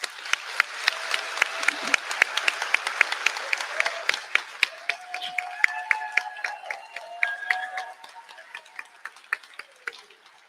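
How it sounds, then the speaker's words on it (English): A college commencement audience for health science graduates claps in a scattered, moderately loud round of applause, individual claps distinct, with some faint cheering and calls mixed in as it gradually thins out. "let's give them a round of applause"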